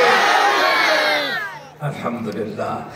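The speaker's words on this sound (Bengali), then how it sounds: "সবাই একটু কণ্ঠ করে বলুন আল্লাহু আকবার। আরেকটু জোরে বলুন।" A large crowd at a religious gathering shouts the takbir together in one loud, sustained chant that fades away, followed by a few scattered, quieter voices.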